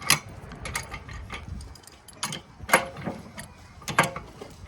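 A ratchet wrench tightens the blade nut on a John Deere riding mower, giving quiet, irregular bursts of sharp metallic clicks with short pauses between strokes.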